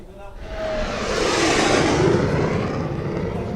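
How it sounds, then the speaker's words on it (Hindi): Fighter jets such as a Sukhoi, Mirage and Tejas touching down on the Agra–Lucknow Expressway used as a runway, a loud, sustained roar of jet engines that swells and holds steady throughout. "ट्रैफिक भी चलता रहे और ये विमान भी टच डाउन करते रहे"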